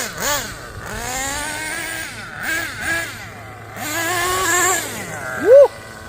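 Kyosho USA-1 nitro RC monster truck engine screaming at full throttle, a high, buzzy whine that rises and falls through repeated revs, close and loud, with a sharp spike near the end.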